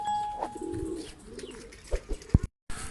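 A homing pigeon coos a few times close by in a quiet setting, with soft rustling and a couple of sharp knocks near the end before a brief silence.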